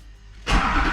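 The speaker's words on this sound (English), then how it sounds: "Here we go, cranking." A Duramax diesel swapped into a truck cranks quietly, then abruptly catches and roars to life halfway through, running loud and rough to the end.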